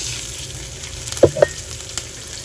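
Green chillies dropped into hot oil with cumin seeds and asafoetida, giving a steady close sizzle and frying hiss with a couple of brief pops and crackles midway.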